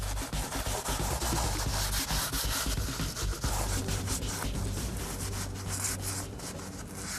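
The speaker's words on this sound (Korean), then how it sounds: "솔이나 스펀지로 꼼꼼히 문질러 닦아주어야 하는데요" Marble surfaces being scrubbed with a brush or sponge during a house cleaning, a steady, loud rubbing and scratching that continues throughout without pause.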